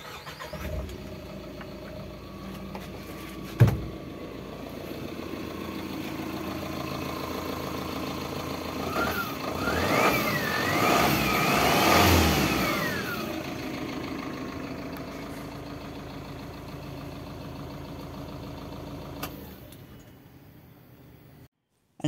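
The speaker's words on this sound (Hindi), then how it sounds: "एंड अभी इंजन को स्टार्ट कर इंजन के साउंड सुनाएंगे।" A Tata Intra V50 BS6 pickup truck engine cranks and catches with a sharp start, settles into a steady idle, then revs up and down several times before dropping back to idle and cutting off, heard close with no talking.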